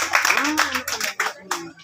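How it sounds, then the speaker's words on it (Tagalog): A crowd at a neighborhood political gathering on Bueno St., Camarin, Caloocan gives a local candidate a short burst of clapping, a few sharp claps heard under and between a man's close, loud talking. "Ang lakas ng palakpak mo kay Lea."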